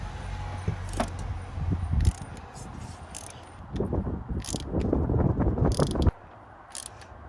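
Close-up ratchet clicks and mechanical handling while spark plugs are tightened on a Peugeot 308, with short bursts of clicking and metallic jangling alternating with pauses and background noise.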